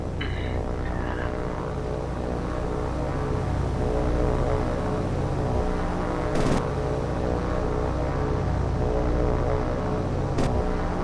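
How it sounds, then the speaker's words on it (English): A float plane's propeller engine drones steadily and loudly in the naval combat game War on the Sea, with a broad continuous roar and a couple of brief sharp bursts. "It's a float plane."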